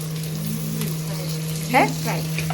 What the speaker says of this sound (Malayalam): ഒരടുപ്പിൽ ചിക്കൻ വറുക്കുന്നു